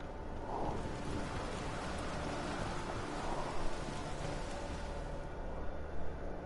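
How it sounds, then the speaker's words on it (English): Steady rain from a storm in the video game The Witcher 3 pours down with a dense, even hiss that stays constant throughout, with no voices. "A storm, damn it."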